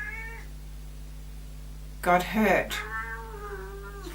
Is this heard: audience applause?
no